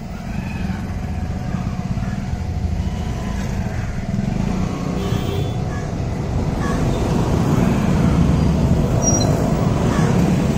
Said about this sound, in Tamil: It's a full of high traffic.